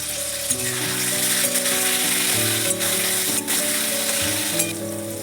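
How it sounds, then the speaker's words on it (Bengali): Paneer pieces fry lightly in oil with a continuous, close crackling sizzle that holds steady throughout, while soft melodic music plays underneath. "এবার পনিরগুলো একটু হালকা করে ভেজে তুলে নেব।"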